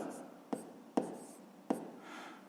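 A pen writes out a math solution on paper, quiet scratchy strokes with three sharp taps as the tip lands, close and faint in an otherwise still room.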